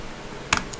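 A computer keyboard during Odia typing gives two or three quick, crisp key clicks close by, the first a firmer press like an Enter key, in an otherwise quiet moment.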